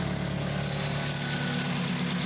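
A 2004 Toyota Celica GT engine idles at cold minimum after a power steering fix, a steady close hum with a faint whining tone and a constant vibrating drone, with no voices.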